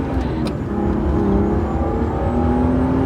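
BMW E36 M3 engine heard from inside while driving, a loud low bassy drone with steady harmonic tones and a faint rising whine, continuous throughout.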